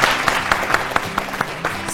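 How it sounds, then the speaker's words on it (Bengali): A game show studio audience claps loudly in a quick, steady burst, individual claps audible within the dense applause. "জোরে হাততালি"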